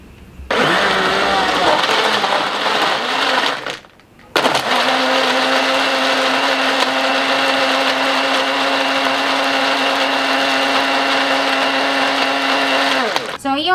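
An 8-second blender and baby food maker whirs loudly and steadily, stops briefly for a pulse pause, then runs again at a constant high-pitched drone.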